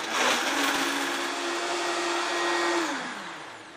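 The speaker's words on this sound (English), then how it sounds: "Just use your cashew and the water. Again, you put it on the blender." A blender whirs loudly and continuously, blending cashews and water into a smooth cream, with a steady motor drone that holds and then winds down at the end.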